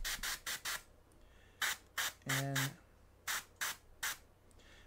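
An airbrush sprays dark glaze in short, repeated bursts, each a soft close hiss of one or two seconds in quick groups. A brief spoken word sounds once in the middle.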